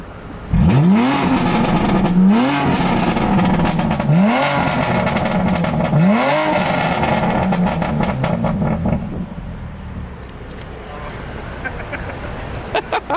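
A BMW F80 M3 fitted with a non-resonated equal length mid pipe is revved hard several times. The sharp, loud blips rise and fall, then a quieter idle follows with people talking faintly in the background.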